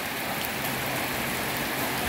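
Heavy rain pouring down outdoors, a dense, steady hiss of drops hitting surfaces, loud and close with no pauses.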